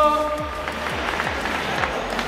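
Applause for the winning team at a trophy ceremony of a dirt-road car rally in Pozoblanco: a brief, steady burst of crowd clapping, with low falling tones sweeping underneath.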